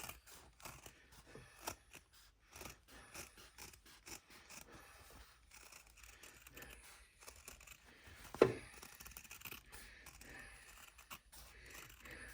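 Scissors snip and rasp through fabric, trimming a quarter-inch seam allowance on a small embroidered wallet, with quiet, irregular cuts close by and one sharper snip partway through, no voices.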